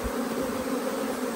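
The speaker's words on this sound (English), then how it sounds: "There's a lot of bees in the bottom there." Honey bees crowded in the bottom of a hive during frame handling, a dense, steady buzzing hum heard close and continuous, with no talking.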